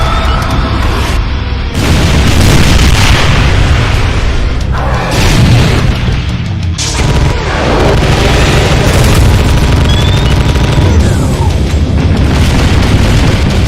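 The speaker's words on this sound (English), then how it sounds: "throwing a bunch of the Vexed Nemesis Assault Captain's spring mines and grenades" Spring mines and grenades thrown by a Vexed Nemesis Assault Captain in a DooM mod, detonating in a loud, relentless chain of close booms and bursts that merge into a constant roar.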